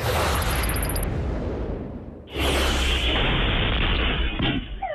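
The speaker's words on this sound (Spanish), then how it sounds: "Seis personas que viajaban en el balde de una camioneta resultaron heridas por una explosión." A roadside explosion near a pickup truck carrying passengers in its bed, recorded by a security camera, bursts in suddenly as a loud, broad blast after a rumbling stretch and then rings on as a sustained roar.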